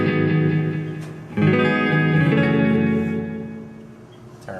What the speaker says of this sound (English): Just a little hint of reverb there.